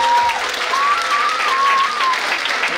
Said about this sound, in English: Give a round of applause for all of our performers so far this evening on the panel.